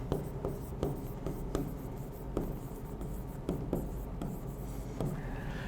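Pen strokes writing notes on a board or page during a botany lecture, a steady series of short scratchy taps and scribbles close up, with no voice over them.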